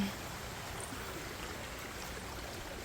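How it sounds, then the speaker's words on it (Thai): A stream flows along a nature trail near an emerald pool in Krabi, Thailand, a steady, soft, even rushing of water that stays faint throughout. "ถ้าเราเดินแบบนี้เราก็จะได้เห็น ลำธาร"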